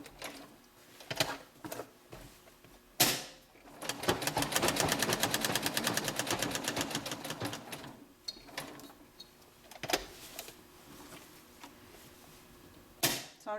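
A sewing machine back stitches around a patch in quiet bursts: a few isolated stitch clicks, then a rapid run of stitching for several seconds, then scattered single stitches.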